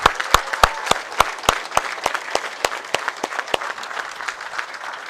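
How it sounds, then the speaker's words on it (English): Applause at a boys' high school state bowling tournament: a crowd claps in a large hall, with sharp, loud individual claps standing out over a steadier patter, close and continuous for several seconds. "Please give him a nice round of applause."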